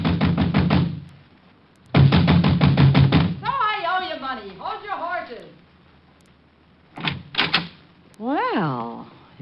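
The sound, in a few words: knocking on a door, radio drama sound effect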